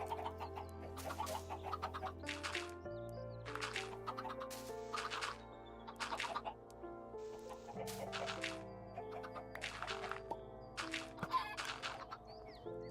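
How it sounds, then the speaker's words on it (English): Chickens clucking in a video game world, repeated cackling bursts over steady in-game background music, moderately quiet and with no voices. "I just heard one of the chickens spawn"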